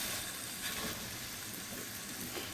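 Steaks sizzling in a hot pan for a lobster and steak dinner: a steady, soft hiss of frying fat with faint crackles, continuous and fairly quiet.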